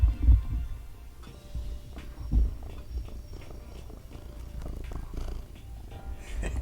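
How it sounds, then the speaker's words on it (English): A cat named Miss Bean purrs loudly and close, a steady low rumble with rhythmic pulsing, heavier swells near the start, continuing without talk. "Oh, Yeah, you were purring very loud, Miss Bean."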